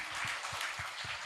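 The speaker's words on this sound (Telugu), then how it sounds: "అందరం చప్పట్లు కూడా దేవుని మహిమపడదాం గట్టిగా" A church congregation claps together in praise, rhythmic beats landing roughly every quarter second with a steady, moderate, somewhat distant sound.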